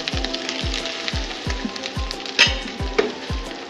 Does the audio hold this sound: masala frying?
yes